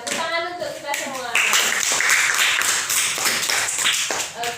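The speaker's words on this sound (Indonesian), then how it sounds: "tepuk tangan untuk kita semua" Students in a school group guidance session clap together, brisk sharp hand claps from a small group, starting after a short voice and continuing in an uneven burst with some talking mixed in.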